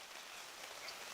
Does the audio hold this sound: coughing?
no